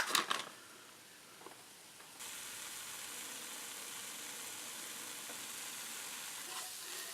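Hamcake batter seasoned with garlic powder fries in a pan, a soft steady sizzle that jumps louder after a brief scrape and then holds evenly, close and alone.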